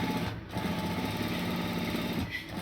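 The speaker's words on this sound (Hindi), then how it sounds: "आपने ऐसे ही अपनी पट्टी पर कॉर्नर की सिलाई लगा देनी है" A sewing machine stitches the corner of a fabric strip, running in a fast, even mechanical whir with brief pauses near the start and end, close and fairly quiet.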